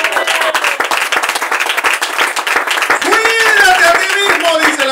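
A church congregation claps during a Spanish-language service, with brisk, dense applause running throughout and voices calling out over it.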